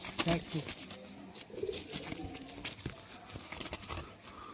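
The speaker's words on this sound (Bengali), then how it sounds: "আমাদের স্ট্যান্ডিং কলটা দেখায়" A pet pigeon gives its standing call, soft low cooing heard close by among rustling and clicks in a loft, with people talking now and then.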